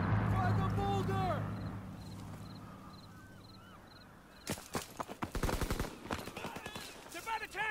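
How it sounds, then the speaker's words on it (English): Aircraft strafing gunfire in a military shooter video game breaks in halfway through as a rapid, loud rattling burst of rounds, following quieter game ambience and tonal voice-like calls. "Strafing run inbound."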